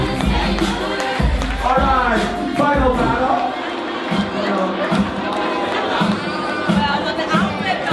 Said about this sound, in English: give the Monsties a round of applause, everybody